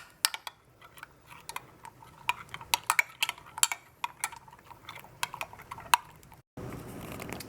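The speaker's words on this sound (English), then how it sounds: "Stir that up." Spoon scraping and clinking against a bowl while a homemade cat food mixture gets stirred, a quick irregular run of close tapping strikes, then a brief pause and a softer steady rustle.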